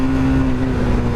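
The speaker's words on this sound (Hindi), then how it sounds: "यहाँ पे हम थोड़ा सा बाइक को पुल करके देख सकते हैं" A Hero Xtreme 250R sports motorcycle being pulled hard, its engine held at a loud, steady high-revving drone with a strong sustained tone throughout the short stretch, no talking over it.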